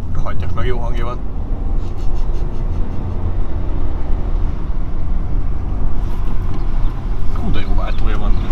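A car engine runs steadily close by, its low rumble rising and falling as it revs, with people talking over it throughout.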